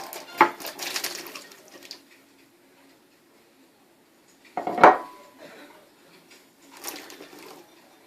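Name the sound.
potatoes tossed into stew pot with vegetables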